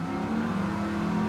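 A touring car engine revs steadily in a racing video game, a loud, sustained droning whine that holds level without pause.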